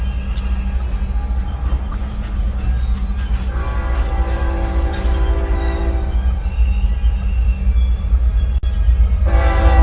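A train passes with rumbling wheels, and a loud horn blast sounds midway through, close and alone with no talking.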